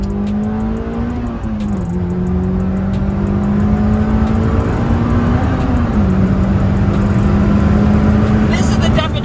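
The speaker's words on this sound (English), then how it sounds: "This is the definition of banging gears." A Honda S2000 with a manual gearbox revs up through the gears, its loud, close engine note climbing, dropping sharply at each shift, then climbing again, with a voice speaking in places.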